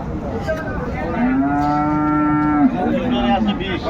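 A dairy cow moos in one long, drawn-out low call, with a shorter lowing tail after it, at a cattle market in Cumilla, Bangladesh; a crowd murmurs faintly in the background.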